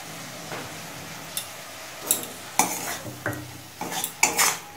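Masala with turmeric, chilli powder, salt and a splash of water is stirred and fried in a pan over medium heat, giving scattered scrapes and metal clinks over a soft, low sizzle.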